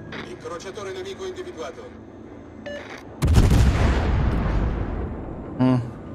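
Naval guns fire in World of Warships gameplay: a loud, heavy boom bursts out midway and rumbles on for seconds, with a second shorter blast near the end, after quieter game sounds and faint talk.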